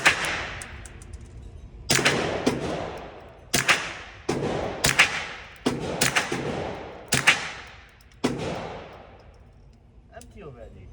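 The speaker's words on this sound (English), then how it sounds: "A few rounds go by in a puff of smoke." Suppressed Ruger Mark IV pistol shots, about seven sharp cracks fired at uneven intervals up close, each with a short decaying tail, and faint clatter between them.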